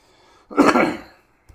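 A single short, rough throat clearing close to the microphone, like a brief cough, followed by quiet.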